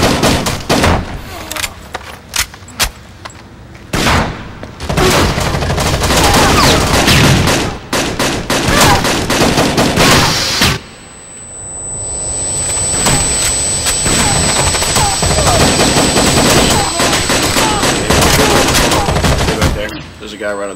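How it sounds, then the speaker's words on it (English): NATO .308 rifle fire in the video game Rainbow Six Vegas 2 during a rooftops and parking lot fight, with loud repeated shots and bursts over about twenty seconds, a brief lull midway, plus other game sounds. "It's a mean rifle."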